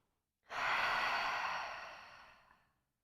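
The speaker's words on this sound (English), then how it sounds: "Breathing into the ribs." Single long, deep breath taken during a beginner Pilates mat session focused on glutes and pelvic floor, drawn into the ribs; one steady, close airy exhale of about two seconds that slowly fades, alone with no talk.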